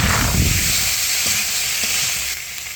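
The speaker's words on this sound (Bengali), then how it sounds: "আলুটা সুন্দর করে কষিয়ে নিচ্ছি আমি" Potatoes stir-fried in spice paste with salt sizzle loudly and steadily in the pan, with a couple of soft stirring scrapes and the hiss easing slightly near the end.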